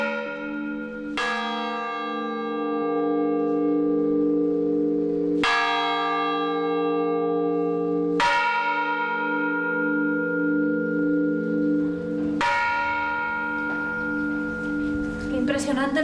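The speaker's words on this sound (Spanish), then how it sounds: "Qué impresionante el sonido de las campanas" Church bells ring out in a slow sequence, four resonant strikes spaced a few seconds apart, each leaving a long, humming decay.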